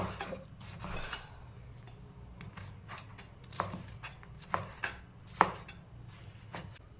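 A knife cutting through a mosambi-like citrus fruit, a series of sharp, close clicks and taps that build toward several distinct chops near the end, over faint background noise.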